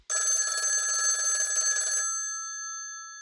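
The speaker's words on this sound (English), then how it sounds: "Let's give him a ring." A phone ringing out while calling an electrician: one loud electronic ring tone lasting about two seconds, then fading away into silence.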